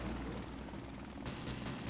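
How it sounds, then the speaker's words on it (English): Helicopter rotor and engine drone in a combat video game, a steady continuous whir holding at moderate volume throughout with no talk. "The helicopter got the guy on the left."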